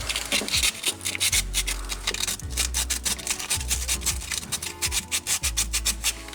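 Sandpaper scrubs rust off the right-front ABS sensor mount of a VW Golf IV. Close, rhythmic back-and-forth rasping strokes repeat at a steady pace, with no talk.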